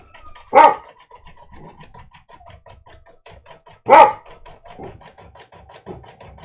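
A dog barks at a passing school bus: two loud, sharp barks about three seconds apart, close to the microphone, with soft whimpering and panting in between.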